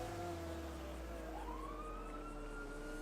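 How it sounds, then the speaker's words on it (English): A police siren wails in a roleplay video game, steady and somewhat distant, its tone sweeping upward partway through over a constant low engine-like hum, with no talk. "I hear a siren."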